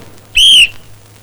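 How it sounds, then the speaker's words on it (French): A whistle built into a flexible police baton gives one short, shrill, steady blast of about a third of a second, loud and close, heard alone over a faint hum. "vous avez un sifflet"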